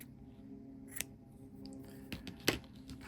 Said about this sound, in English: I'm going to pull the cord out and then cut a small tail.